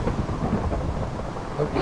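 Thunder and heavy rain from a lightning storm in a Minecraft modpack world, a continuous deep rumbling roll under steady rainfall, fairly loud with no talking.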